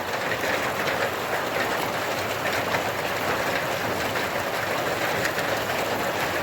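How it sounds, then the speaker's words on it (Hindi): A dense, continuous clatter of large hailstones pelting a hard house roof, loud and steady without pause. "देखिए दोस्तों ये ओला है।"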